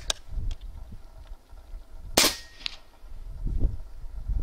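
PCP air rifle shots fired through a Wrangler Phenom moderator: one sharp, loud crack stands out among several fainter, clipped pops and clicks, spaced irregularly with quiet gaps, no voice.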